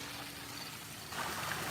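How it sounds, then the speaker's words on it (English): Water spills down a koi pond waterfall at night, making a steady, fairly faint hissing splash that swells slightly toward the end, with no voices. "there's another waterfall that goes down in here"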